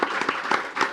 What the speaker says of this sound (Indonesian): Kasih tepuk tangan buat Pak Dedi.